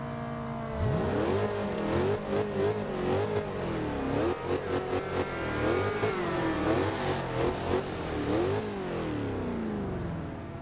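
A 1970 AMC Rebel's big V8 engine in Forza Horizon 2 revs repeatedly, its deep rumble rising and falling through the gears, loud and continuous with no talking.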